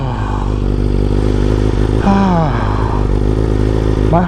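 A BMW S1000RR sport bike on a cold start gives a loud, steady engine drone with a mechanical clatter through it and short rising whirs of revving, close up and continuous.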